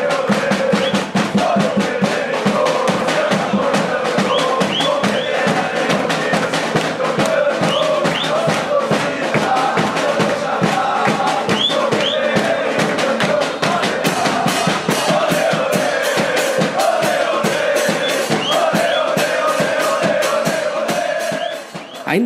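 A large crowd of football fans chants a song in unison at a match between BDL and Esperança, loud and continuous, with rhythmic clapping or drumbeats driving it throughout.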